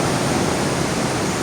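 River water rushes through a man-made tunnel in a continuous, loud, broadband roar with no breaks and no voices.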